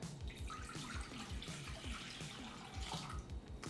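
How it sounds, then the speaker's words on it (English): Two cups of filtered water pour steadily into a pot, a continuous splashing gurgle, fairly quiet and close, with no one speaking. "Adding in 2 cups of my filtered water."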